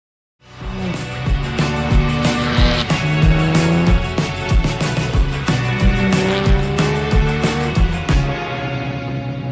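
A classic European sports car drives on a wet, rainy road, its engine note rising and falling steadily and loudly close by, with gear changes and tyre noise throughout.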